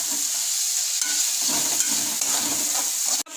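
Chopped onion with ginger and garlic sautéing in a pan for paneer gravy, giving a loud, continuous close-up sizzle with light stirring. It runs unbroken and ends with a brief knock.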